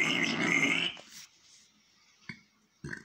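A loud, close burp lasting about a second, then quiet with a couple of short soft clicks or mouth noises.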